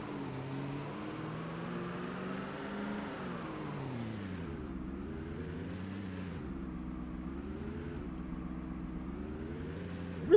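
Car engine droning steadily in Project Zomboid, a continuous harmonic hum whose pitch climbs, dips and wavers as the vehicle speeds up and slows, close and unbroken, with a sharp knock at the very end.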